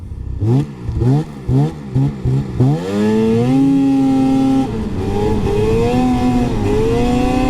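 Arctic Cat Catalyst ZR R-XC 600 snowmobile engine, loud and close: a run of sharp throttle blips climbs into a sustained high rev, then eases and surges again with no talking over it.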